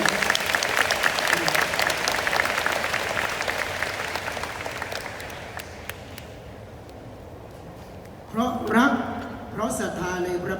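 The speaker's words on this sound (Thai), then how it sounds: "ปรบมือให้โยมแม่" Applause from a temple audience honouring a mother at a Buddhist teaching session, a sustained dense clapping that fades out after several seconds, followed by voices and rustling near the end.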